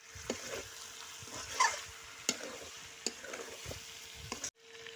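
A spoon stirs potatoes into beef tongue curry simmering in a pot, giving a quiet sizzle with a few soft scraping clicks and a brief cut near the end.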